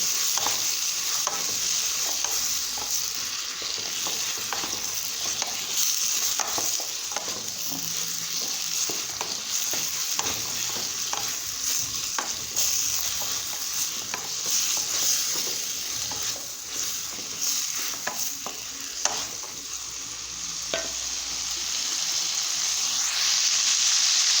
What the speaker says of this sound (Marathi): पण आता फुलगोबी टाकून घेऊ मिक्स करून घेऊ